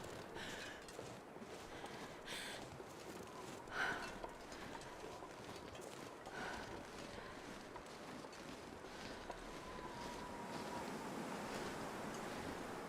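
Wind in the survival video game The Long Dark, a faint, steady howling rush with soft gusty swells and a few scattered small knocks, heard alone without talk.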